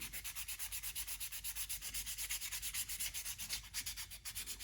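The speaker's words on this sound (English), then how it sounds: "I just use a little sandpaper and smooth things up and get the keel ready for sealing" Sandpaper rubbed back and forth over a wooden duck decoy keel after routing, a steady rhythmic scratching of even strokes, close and fairly loud, with no voices.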